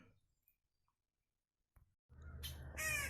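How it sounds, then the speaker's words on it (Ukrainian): Crows caw in a village garden, with harsh squawking calls starting partway through and growing loud and close near the end after quiet stretches with faint noises. "і ворони налетіли зразу каркають"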